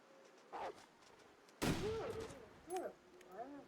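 A single sharp gunshot in a survival video game rings out loud and close, followed by a reverberating tail, with faint game ambience and brief voice-like sounds around it.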